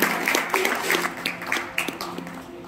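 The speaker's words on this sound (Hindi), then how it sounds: "जोरदार तालियां दें, तालियां आपका आशीर्वाद स्वरूप होगा बिटिया के लिए।" An audience claps for a daughter being honoured at an event: a few seconds of steady, fairly close applause with sharp, irregular hand claps.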